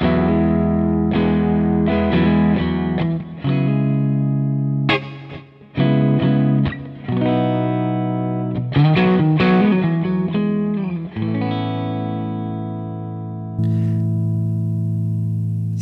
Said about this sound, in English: it's hard to say nice things about Fender distortion channels normally